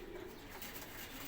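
Pet pigeons coo softly in their loft, a faint, low, continuous murmur of calls with slight hiss in the background.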